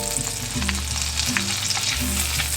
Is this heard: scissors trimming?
no